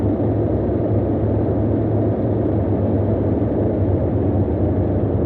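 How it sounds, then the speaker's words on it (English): Boeing 247 twin piston-engine airliner taxiing on the ground, a loud, steady, close engine drone with a low throbbing rumble that holds without a break. "Very noisy aircraft too. Very, very noisy aircraft."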